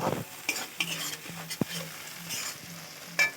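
Spices being stir-fried with chilli powder, cumin powder, salt and sugar for an egg and potato curry, a spoon scraping the pan in repeated strokes over a steady low sizzle, close and clear with no talk.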